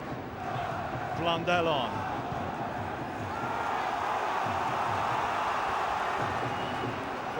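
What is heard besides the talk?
football crowd noise rising, Darlington supporters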